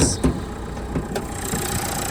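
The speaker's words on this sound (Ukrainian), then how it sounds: "Дизельний двіжок працює без зауважень" A diesel engine in a 2019 Renault Sandero StepWay idles with a steady, slightly rattly mid-pitched rumble and a few brief clicks, heard close up.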